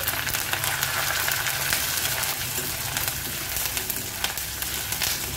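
Green chili, ginger, garlic and curry leaves sizzle in hot oil, a loud, continuous crackling fry with scattered pops and spits throughout, no voices.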